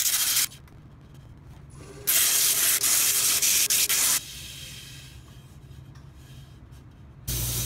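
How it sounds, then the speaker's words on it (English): Harsh sanding scrapes on and off as excess wood filler is sanded off a wood-turned segmented bowl, with two louder bursts of abrasive rubbing separated by quieter scratching. "I sand the excess wood filler off."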